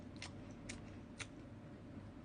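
Crispy fried chicken skin from Mom's Chicken bitten close to the mic, three short crisp crunches spaced about half a second apart over a quiet background.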